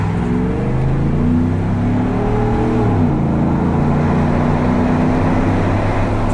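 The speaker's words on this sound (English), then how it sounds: "So we have two trucks with Corsa exhaust." A Chevrolet Silverado truck fitted with a Corsa exhaust accelerating, heard from inside as a loud, steady engine drone rising smoothly in pitch with one gear shift partway through.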